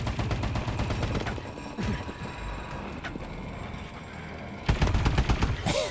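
Shotgun fire from Call of Duty: Advanced Warfare on the Havoc map Core, rapid bursts of shots early on, scattered single blasts in the middle and a dense volley near the end.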